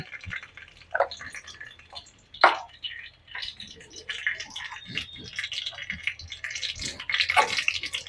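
Dried red chili and panch phoron spices sizzling and crackling in hot oil in a pan, with irregular spitting pops and hiss that grow busier toward the end, close and moderately loud, with no talking.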